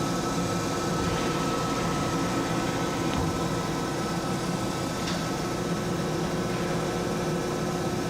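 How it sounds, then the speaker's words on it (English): An Okamoto OGM 1236 UNCB CNC cylindrical grinder runs its main spindle with a quiet, steady mechanical hum and faint whine, a continuous even drone with a few soft clicks and no talking. "I'll run the main spindle now. Again, it's nice and quiet."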